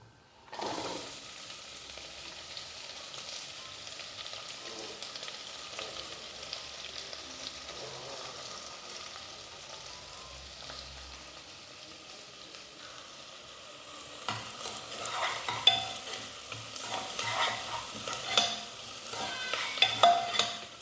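Onions, green chilies and curry leaves with tempering spices fry in hot oil, a soft steady sizzle that grows louder and crackles toward the end, with occasional stirring and no voices.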